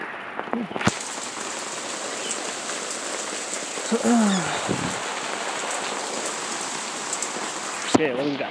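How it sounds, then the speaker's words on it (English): Heavy rain falling as a loud, dense, continuous hiss throughout, with a few faint tonal sounds and brief clicks mixed in. "raining quite hard."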